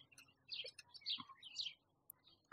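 Small birds chirp and twitter outdoors in a village, with several short bright calls overlapping, faint and somewhat distant against a quiet background.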